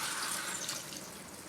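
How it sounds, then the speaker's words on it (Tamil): A vessel of water is poured into a pan of vegetable masala for veg pasta, giving a steady, close splashing rush that eases off slightly toward the end. "நான் ஒரு சொம்பு அளவு தண்ணி சேர்த்துக்கிறேன்."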